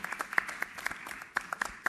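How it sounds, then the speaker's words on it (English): Scattered, fairly faint hand claps from a small audience honouring designer duo Shantanu and Nikhil at a fashion week curtain raiser, sharp separate claps in an irregular patter rather than a full ovation. "So a big round of applause for Shantanu and Nikhil."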